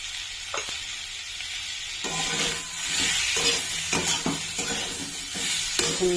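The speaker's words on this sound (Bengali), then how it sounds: "দেখলেন তো কেমন পেঁয়াজগুলো ভাজা হয়ে গেল" Onions fry with turmeric in a pan for a fish curry, a steady loud sizzle with a stirring spoon scraping and clinking at intervals, close and without talk.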